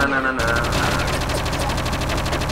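Rapid, sustained gunfire from the Project Eden video game, dense automatic shots rattling continuously and loudly throughout, with no pause after a brief opening.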